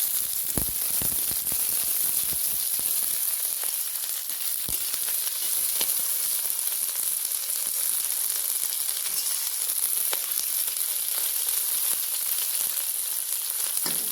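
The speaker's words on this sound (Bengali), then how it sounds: "দেখুন আমরা সব কিছুকে খুব ভালো করে ভেজে নিচ্ছি" Onions and green chilies fry for ghera bata with a steady, moderate sizzle and crackle throughout, and occasional sharp clicks of a utensil against the pan.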